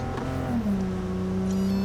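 A self-driving car in the video game Cyberpunk 2077 runs with a steady, loud engine hum whose pitch slides down and then holds level, with no voices.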